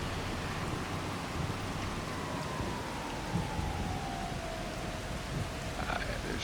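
Steady rain falls in the farming video game Farming Simulator 25 on the Zielonka map, a constant broadband hiss with a faint tonal whine drifting underneath.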